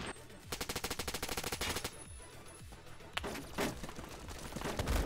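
Rapid automatic gunfire in a Roblox shooter game, a fast rhythmic burst of close, loud shots followed by scattered single cracks and more firing over busy game sound.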